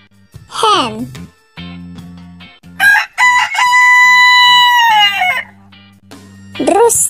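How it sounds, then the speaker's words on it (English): A rooster crows loudly and up close in a long drawn-out call, with short speech and a swooping vocal sound on either side. "Rooster."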